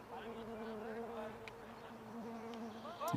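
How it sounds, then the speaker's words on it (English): Bees buzz close around microphones at an outdoor T10 cricket match in Milan, a steady droning hum with wavering pitch that swells as one passes near at the end, alongside faint background talk. "You can hear bees flying around the microphones."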